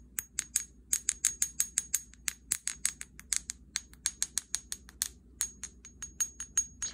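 A natural, slightly chipped Lemurian quartz crystal tapped rapidly along its length, producing a long steady series of bright, high ringing clinks, some with a clackier edge, close and clear against a quiet background.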